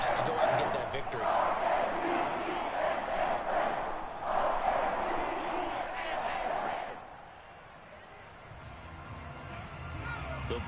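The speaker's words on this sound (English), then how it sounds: "That's why you hear that clapping on the sidelines, right?" Football game crowd in the stands, clapping and cheering from the sidelines as a broad, steady roar that swells and then drops off toward the end, with an announcer talking over it.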